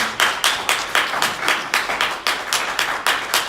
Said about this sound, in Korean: 박수 한번 해주시겠습니다.